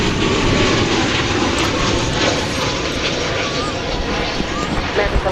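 A Korean Air airliner at DFW Airport gives a loud, steady broadband engine roar that holds throughout, with a voice talking over it.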